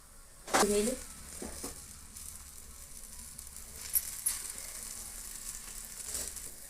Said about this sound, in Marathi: असं शेकून घेऊया तुम्ही याच्यावर तूप वगैरे लावून मुलांना देऊ शकता